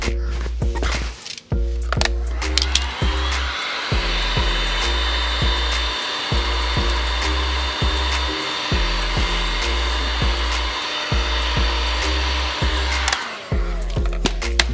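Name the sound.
heat gun heating vinyl wrap on car fender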